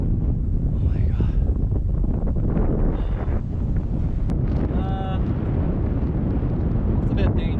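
Strong wind on a mountain hike at Garisan in Hongcheon, South Korea, roaring and buffeting the microphone continuously and loudly, with a person's voice heard briefly under it.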